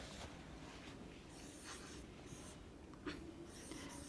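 Marker or chalk scraping across a board during a classroom lesson, a steady close scratching in several strokes with faint background noise.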